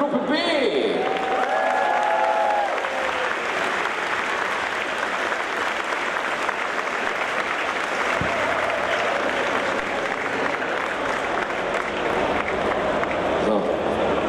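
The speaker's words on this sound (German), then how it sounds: "Nochmal Applaus hier für Gruppe B!" Audience applause for a costume contest group at Gamescom 2014, a sustained dense crowd of clapping that stays steady for the full length, with a voice over a speaker system talking above it near the start.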